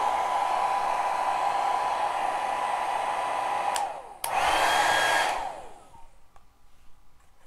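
A handheld hair dryer drying paint on a snowman wreath craft whirs steadily, cuts out, bursts back on for about a second, then switches off, leaving near quiet.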